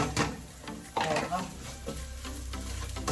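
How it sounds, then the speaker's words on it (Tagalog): Onions dropped into a pan of cooked garlic hit with a sizzle followed by stirring and frying, with clattering from the utensil and pan in a home kitchen. "Lagyan na natin ang maraming sibuyas."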